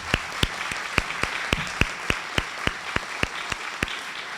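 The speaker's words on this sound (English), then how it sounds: "Let's give Dr. Diana Wood one more round of applause." Steady, evenly spaced clapping at an education leadership awards ceremony, each clap sharp and distinct, keeping a regular beat against a background of crowd noise.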